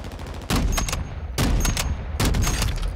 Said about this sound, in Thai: หนึ่งนัดสองนัดล้ม